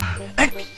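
A dog that has wandered into a college auditorium function gives one short yipping bark amid a noisy, echoing room, with speech-like crowd sound around it.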